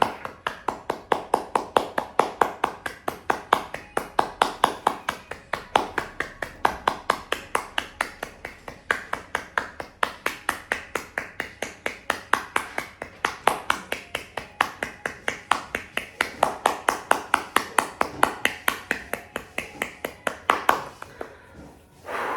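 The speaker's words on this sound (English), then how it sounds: "breathe out while you're clapping and hold the breath as long as you can" Hands clap fast and evenly during a breathing exercise, a long unbroken run of sharp, close claps lasting over twenty seconds and easing off near the end.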